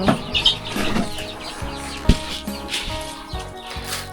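Chickens cluck close by in a rural yard, a run of short, irregular clucks and chirps, with faint background farmyard noise.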